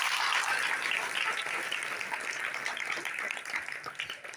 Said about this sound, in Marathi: जोरदार टाळ्या वाजवायच्या आहेत सरांसाठी.